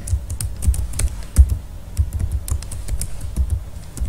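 Someone types a command on a computer keyboard, a close, steady run of sharp key clicks with a few heavier thumps, as if from the space or enter key, and no talking.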